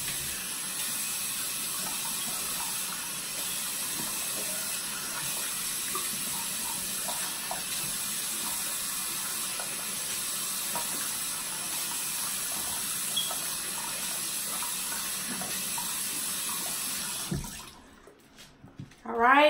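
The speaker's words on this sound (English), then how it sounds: "turn on your lukewarm water then" Lukewarm tap water runs steadily from a faucet into a bathroom sink, a continuous close splashing stream that cuts off near the end.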